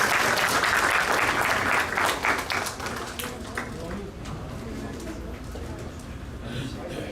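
Audience applause fills a hall at an Eid party, a dense burst of clapping that stays loud, then thins and fades into a softer patter.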